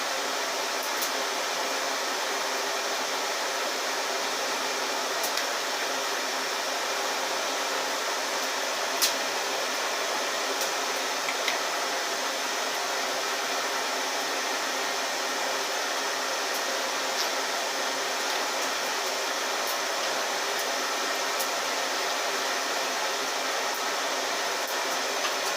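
An angle grinder running with its safety guard removed gives a steady, high-pitched whine held at constant loudness close up, with a few faint ticks over it.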